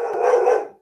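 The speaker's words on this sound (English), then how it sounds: "That'll be the dog." A single dog bark, loud and close, lasting under a second and tailing off, with no talk over it.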